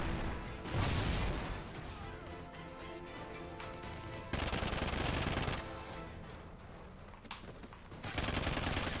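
Automatic gunfire in the Call of Duty Ghosts game on the Whiteout map during a Ground War match, loud bursts of rapid shots with explosive crashes recurring across the clip, mixed with game sounds and occasional talk.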